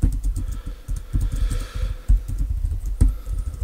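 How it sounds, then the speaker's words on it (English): Rapid typing on a computer keyboard, a close, uneven run of sharp plastic clicks and key thumps with short pauses, one louder clack near the end, and no voices. "Whoops, my typing is not very good today."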